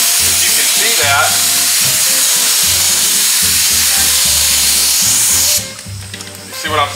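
A spray gun blows a steady, loud hiss while laying full, wet coats of primer onto a plastic car bumper cover, and a compressor hums underneath. The spray cuts off near the end, and brief voices are heard.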